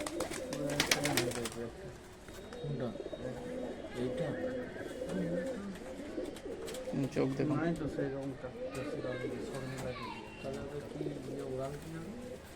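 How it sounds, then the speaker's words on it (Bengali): Dab pigeons, a breeding pair kept by a high-flying pigeon fancier, coo in low, repeated throaty calls throughout, under someone talking nearby. "দেখুন ডাবওয়ালা পায়রা"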